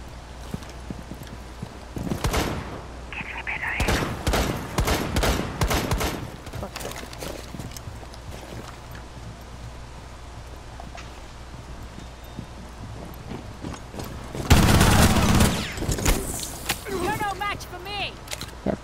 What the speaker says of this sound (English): From where is the Jaeger shooting at me from?